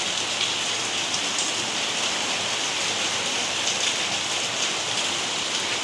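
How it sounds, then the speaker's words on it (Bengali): Heavy rain pours down steadily with a dense, even hiss of countless drops that stays constant throughout, with no voices. "বৃষ্টি পড়ছে।"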